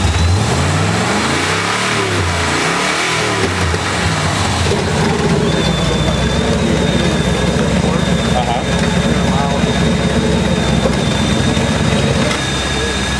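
Engine exhaust running through a Dynomax Super Turbo muffler at a live demonstration, a steady loud rumbling drone with a revving swell near the start, a thin high whine entering midway.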